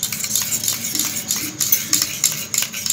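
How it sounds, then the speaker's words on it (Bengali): A spoon stirs egg roll sauce seasoned with black salt, giving a quick run of close, bright clinks and scrapes against the bowl, steady and unhurried, with no talking. "একটু বিট লবণ, এরপরে ভালো করে মিশিয়ে নিচ্ছি।"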